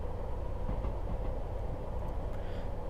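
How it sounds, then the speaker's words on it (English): A train in Train Sim World 3 rolls into Loughborough Station on the Midland Main Line, a steady low rumble of wheels and carriage noise with faint rhythmic clatter. "And we are coming into Loughborough Station."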